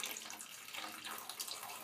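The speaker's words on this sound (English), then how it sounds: "I just have some water here to show you that when I pour water" Water poured by hand into a sink drain in an apartment, a steady close splashing and gurgling rush with slight splatter, running without pause and with no talk.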